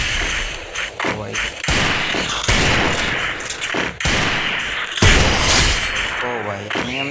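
Gunfire in the mobile shooter game Free Fire, dense rapid bursts and bangs filling the clip loudly, with someone talking over the shots.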